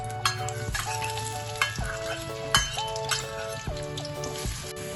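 Chili, red onion and garlic sizzle steadily in hot oil in a pan, with a spatula stirring and clinking against the metal in repeated strokes, close and loud with no talk.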